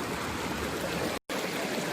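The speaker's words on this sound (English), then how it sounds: "First steps, getting in the water." Stream water of the Dark Prong River rushes and gurgles close up as someone wades in, a dense continuous wash broken by a brief moment of silence.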